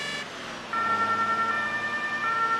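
A UK-style dual siren on an emergency vehicle in the game Emergency 112, steady and loud, a second wailing tone layered in after a brief gap, close and continuous with no talk.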